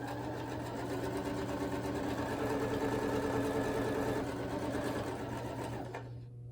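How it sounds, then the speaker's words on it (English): A sewing machine stitches a dog kerchief in a fast, even mechanical whir that holds close and steady for several seconds, then stops abruptly near the end. "So I have the needle down when I lift the presser foot, and then I turn it, then put it back down. I'm ready to sew."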